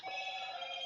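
Telephone ringing nearby with a steady electronic tone that holds through the short clip, loud and alone without any talk.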